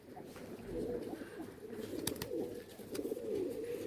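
Rajshahi local Giribaj pigeons cooing in a loft, steady overlapping coos close by with a few sharp clicks.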